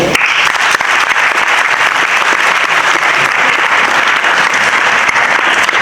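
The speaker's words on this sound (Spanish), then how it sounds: "Muchas gracias a todos por los aplausos" Loud, sustained applause from an audience greeting a speaker at an academic lecture session, a thick continuous wash of many hands clapping close by, with no talking over it.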